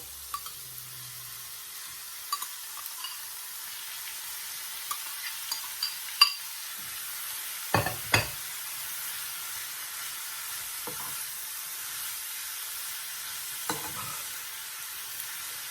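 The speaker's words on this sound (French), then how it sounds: "Je les laisse mijoter dans de l'huile d'olive." Grated carrot and courgette simmer gently in olive oil over low heat, a faint soft hiss with a few scattered clicks and spoon scrapes, quiet and close with no talking.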